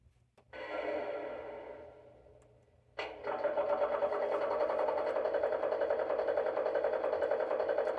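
An LGB 27402 RhB Crocodile model electric locomotive starts with a small motor whirring up and fading, then a steady mechanical hum with rapid rhythmic chatter of idling fans and pumps.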